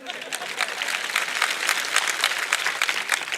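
A crowd applauds during a speech at a Babasaheb Ambedkar Jayanti gathering, producing a steady wash of clapping that continues throughout at moderate loudness.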